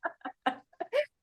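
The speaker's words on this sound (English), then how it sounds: "I don't know if you guys hear the bird out there" Chicken calling outdoors, a run of five short clucking squawks in an uneven rhythm, the last one longer and higher, heard clearly on its own with nobody talking.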